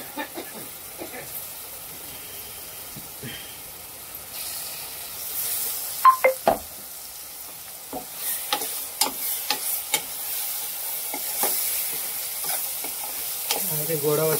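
Masala for chole, with whole spices and ground paste, is stirred and fried in a pan, giving a steady soft sizzle broken by repeated scraping clicks and knocks of a spoon, with the scraping growing busier toward the end.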